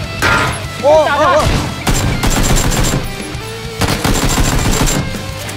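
Gunfire in the PUBG video game cracks out in loud, close bursts of rapid shots with short gaps between them, while players shout excitedly over the shooting.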